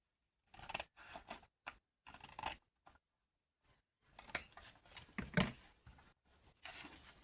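Scissors cutting paper for a junk journal, a series of close, crisp snips in short clustered bursts separated by brief silences, ending in longer, denser cuts.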